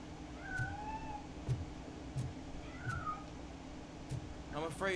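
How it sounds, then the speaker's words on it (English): A cat meows several times in Robocop: Rogue City, short rising and falling calls spaced over a few seconds against a low ambient game hum with occasional soft clicks. "We're finding a cat."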